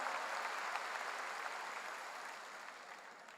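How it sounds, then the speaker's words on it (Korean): A congregation at a Korean church revival gathering gives sustained, evenly dense clapping that holds steady and slowly tapers. It sounds fairly distant and quiet, with no talking over it. "박수로 하나님께 영광을 돌려."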